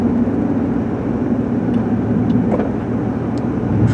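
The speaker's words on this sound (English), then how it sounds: "The truck sure is running good though with this mid-grade fuel in it." A truck engine running smoothly on mid-grade fuel, a steady low rumbling drone heard close and constant for the whole stretch, with no voices.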